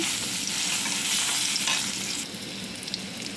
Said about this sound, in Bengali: ওই তেলে বেগুনটা ভেজে নেব।